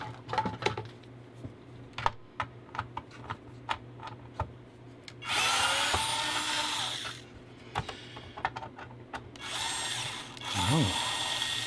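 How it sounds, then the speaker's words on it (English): Working on an electronics teardown, a power screwdriver whirs in two bursts to back screws out of a tape deck chassis, with small clicks and taps of parts being handled between runs. "If I take those screws out, can I get this whole tape deck chassis out of here?"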